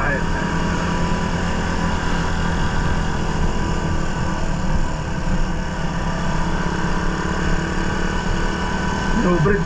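A Raider 150 motorcycle with a 28mm carburetor runs steadily, its engine drone loud and continuous throughout with wind rush over it.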